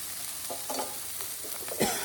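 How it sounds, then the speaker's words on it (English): Jalapeno and onion frying in a pan with occasional stirring scrapes, a soft steady sizzle underneath and a few brief utensil scuffs, close and fairly quiet. "we're going to continue to stir our jalapeno and our onions"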